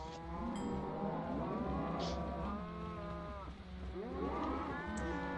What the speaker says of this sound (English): It's a cow explosion.